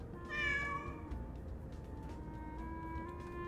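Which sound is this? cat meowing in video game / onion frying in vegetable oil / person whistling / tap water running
cat meowing in video game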